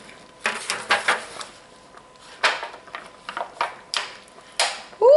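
A big spoon scooping warm peach black raspberry crisp from a dish into two containers, with a series of clanks and scrapes of metal on dishware at an uneven rhythm, close by.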